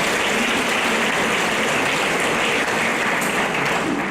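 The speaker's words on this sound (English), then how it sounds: "Let's give another round of applause to Maureen Phan" Continuous applause from a conference audience for a speaker, dense and even clapping throughout with no pauses or voices.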